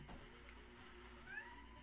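Quiet, drawn-out meow from a pet cat, faint and somewhat distant, rising briefly near the end over low background noise and without any talk.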